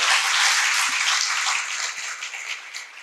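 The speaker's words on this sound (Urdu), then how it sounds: "سب سے پہلے انہیں خوش آمدید کرتے ہیں آپ کی تالیوں میں." Audience applause welcoming a panel speaker, a steady wash of many hands clapping throughout, fairly loud and close, with no talk over it.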